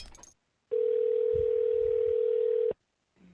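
Telephone call being dialed to a scam support number, with a brief burst of noise, silence, then a long steady tone of about two seconds, and a faint sound after.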